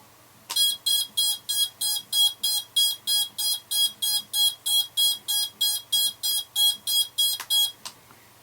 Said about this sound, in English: let's turn the beeper on. This is the D-Shot beeper and these little motors